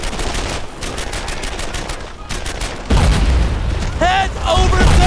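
Gunfire and explosions from the World War II shooter Brothers in Arms 2: a dense, loud stretch of booming shots and rapid bursts that intensifies midway, with voices shouting over the battle.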